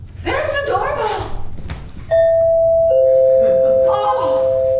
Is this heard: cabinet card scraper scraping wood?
no